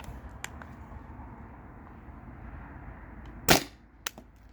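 A single sharp pop from a Tippmann TPX paintball pistol on a 12-gram CO2 cartridge, close and brief over quiet room tone, with a fainter click shortly after.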